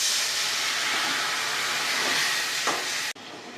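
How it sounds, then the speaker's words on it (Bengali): Spice paste sizzling hard in a pan right after water is added, a loud steady hiss that carries on unbroken for a few seconds and then cuts out abruptly. "এবার একটু জল দিয়ে মশলাটা আমি কষাবো।"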